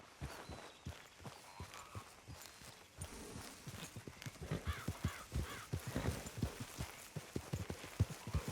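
Horses ridden in Red Dead Redemption 2 give a steady clip-clop of hooves that grows louder and busier, with crows cawing now and then in the background.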